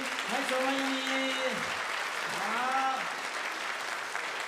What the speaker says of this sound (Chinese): 请你起立，我们欢迎你，拍手欢迎你